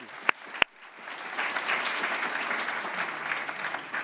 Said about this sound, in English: give them a big round of applause right now, will you please?